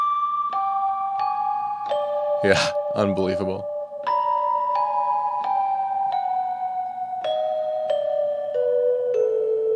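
Mellotron bell tones played through a Meris Mercury 7 reverb pedal: a series of struck, sustained chime notes with long shimmering tails, interrupted briefly by a person speaking.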